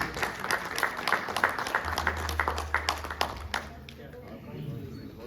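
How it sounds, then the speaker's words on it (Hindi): An audience at an event claps in scattered, uneven bursts that thin out toward the end, with a low hum and some background voices beneath. "इनकी हौसला अफजाई के लिए ताली बजाएं प्लीज।"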